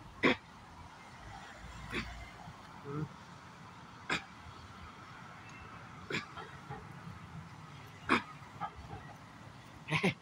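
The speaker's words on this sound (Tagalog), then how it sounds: "kanina po aso po yan" A dog gives short sharp barks spaced about every two seconds against a quiet, hissy background, with faint talk now and then.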